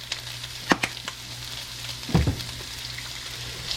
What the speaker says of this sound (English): Stir them thing up one more time and then let them cook down.